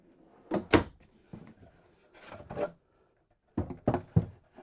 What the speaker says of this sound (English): you also have an upgraded dinette drawer with pull-out slide tray